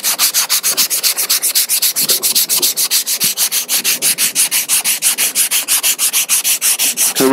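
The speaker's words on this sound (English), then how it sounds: "We're going to continue to sand this with 80 grit just to knock it down a little bit." Hand sanding with 80 grit sandpaper across surfboard resin makes rapid, evenly rhythmic back-and-forth scratching strokes, loud and close, about four to five per second without pause.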